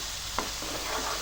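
Onions and green chilies frying in a pan, a soft steady sizzle with a brief clack of a spoon stirring, close but faint and short.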